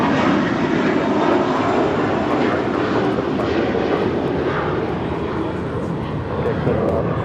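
A Boeing 787-9 Dreamliner arriving at LAX from Papeete makes a loud, steady jet engine roar that runs throughout, with radio voices underneath.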